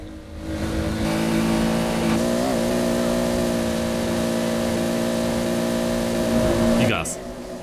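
A Hot Wheels 2JetZ car in the Forza Horizon 4 racing game accelerates with a steady, loud engine drone that rises and holds before cutting off near the end, with a voice talking over it.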